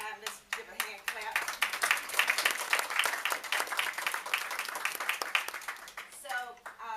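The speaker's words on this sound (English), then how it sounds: "let's give a hand clap" An audience at a Black History celebration breaks into steady hand clapping that swells and then tapers, with voices murmuring through the applause.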